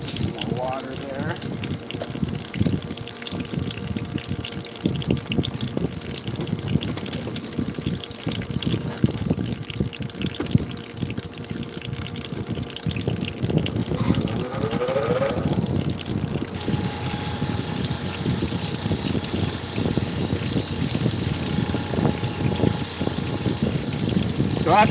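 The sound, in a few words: water on lapidary wheel while windowing fire agate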